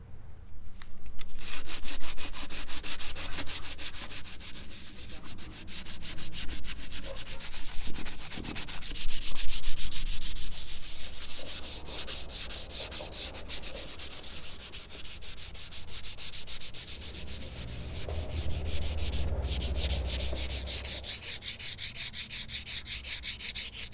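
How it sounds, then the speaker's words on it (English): Hand sanding of antifouling paint off a boat's saildrives makes a steady, close, continuous rasping scrape with fast back-and-forth strokes that carry on throughout without a break. "So it's hand sanding, and it's a bear, but it needs to happen."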